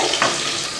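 Steady, dense sizzling of onions frying in hot oil, close up and continuous, with a brief stir partway through.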